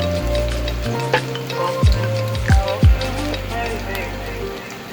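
Frozen chicken wings crackle and sizzle in hot oil while someone talks over the frying, the bubbling steady beneath his voice.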